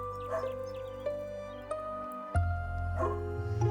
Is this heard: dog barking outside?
yes